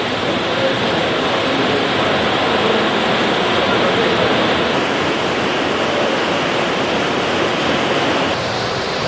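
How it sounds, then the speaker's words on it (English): Canal water drops a small height to drive a huge wheel that powers pumps, producing a steady, loud wash of rushing water with no other sounds. "The small difference in height provides the water pressure to turn this huge wheel."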